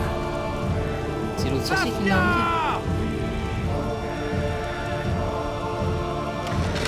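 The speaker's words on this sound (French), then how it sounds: "il tombe d'où la pluie?" Steady rain hisses over a battle in The Witcher 2 during the assault on Vergen, a constant wash beneath someone speaking French and a short whooping, warbling call.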